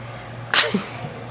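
A single close sneeze bursts out sharply, followed by a short breathy tail, over a quiet room with a low background hum.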